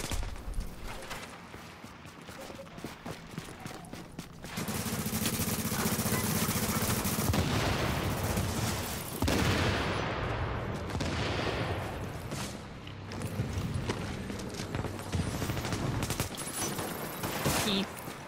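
Video game gunfire crackles in long, dense automatic bursts with heavy booms, sustained for most of the stretch, while players talk over it.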